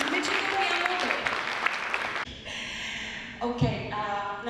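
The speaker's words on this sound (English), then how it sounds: "let's welcome with a thunderous round of applause our esteemed chief guest, Ms. Michiko Miyamoto." Loud, dense applause from a conference audience welcoming a chief guest, a steady wash of clapping that drops off abruptly midway and continues more thinly with a few louder bursts.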